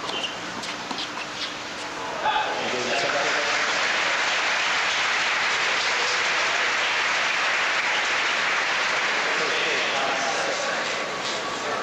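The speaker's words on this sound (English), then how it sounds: "a big hand from a very big crowd" A large, packed tennis crowd of around ten thousand breaks into sustained applause after a point, a broad roaring wash of clapping that swells and holds steadily, with faint voices beneath.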